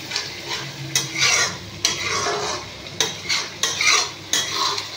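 A spoon stirring salt into a sizzling dish in a pan, rhythmic scraping strokes about once a second over a steady frying hiss, close and fairly loud.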